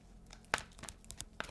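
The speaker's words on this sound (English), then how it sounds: "I'm going to shuffle and I'm going to randomly pull 2 cards" Tarot cards being shuffled by hand: soft papery riffles and several sharp, quick snaps of card edges, close and fairly quiet, with no speech.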